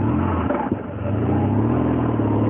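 Close, continuous engine roar from a BMW R1200GS motorcycle running on a Metzeler Racetec sport rear tire, holding steady with a brief dip and bump partway through, then rising again under constant wind noise.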